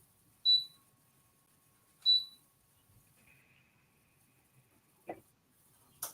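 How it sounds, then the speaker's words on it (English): Two short high-pitched electronic beeps a second and a half apart from a heat press machine for sublimation HTV in a quiet room, followed later by a couple of soft clicks. "I don't know why it was beeping at me."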